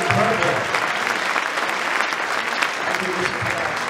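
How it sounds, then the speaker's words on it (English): Sustained applause from a high school winter concert audience, a dense steady clapping that fills the whole stretch at an even, fairly loud level. "Round of applause for that brass choir that was performing out before the concert."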